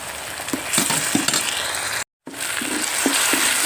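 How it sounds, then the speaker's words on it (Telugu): Ginger garlic paste fries in a pan, with a steady dense sizzle and a scraping, clicking ladle rhythm, briefly cutting to silence before the sizzling resumes. "అల్లం వెల్లుల్లి పేస్ట్ కొంచెం బాగా వేయించేద్దాం పచ్చివాసన పోయేలాగా"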